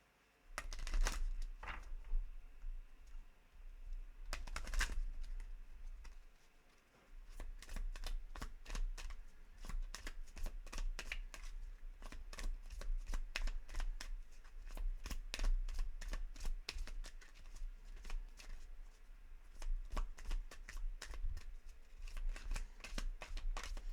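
Angel of Abundance oracle cards are shuffled by hand for almost a minute-long stretch: a steady, close flurry of crisp papery riffles and slaps, with a brief lull near the start and otherwise continuous, no talking.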